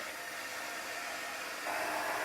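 A hair dryer blows steadily over a chalk transfer, a loud, even rush of air that rises slightly in level near the end, with no voices.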